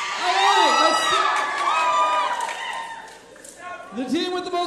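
An audience cheers, whoops and shouts loudly and continuously for lip sync contestants, with children's voices mixed into the crowd noise and a brief dip before the cheering swells again.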